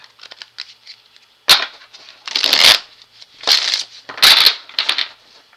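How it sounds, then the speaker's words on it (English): Tarot cards being shuffled close up, several crisp riffling bursts with short pauses between them, fairly loud and alone. "Let me shuffle these cards real good."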